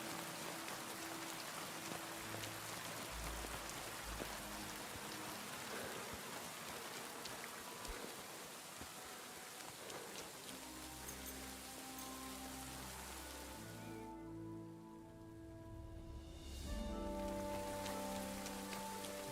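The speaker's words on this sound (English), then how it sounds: "just listen to the sounds of the game, the rain" Rain falling in the video game Kingdom Come Deliverance 2, a steady soft patter of drops on surfaces throughout, with low tones of background game music underneath and no speech.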